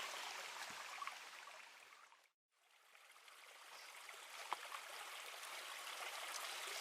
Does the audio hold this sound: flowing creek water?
yes